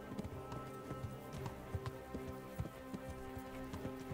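Horse hooves galloping in the video game Kingdom Come: Deliverance, a quick steady clip-clop rhythm, fairly faint and continuous, with no talking over it.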